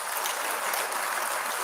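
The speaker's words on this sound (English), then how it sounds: "Let's give them a round of applause." A packed hall at a city's 15th anniversary celebration breaks into continuous applause, a dense, even wash of clapping from a close crowd lasting under two seconds.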